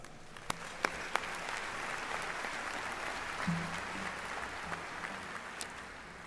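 Sustained crowd applause at a community college commencement ceremony, a broad even roar of clapping in a large venue with a few sharper claps standing out near the start.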